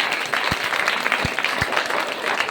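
A kirtan audience claps together in a dense, continuous wash of applause, with a few low thumps standing out in the short stretch.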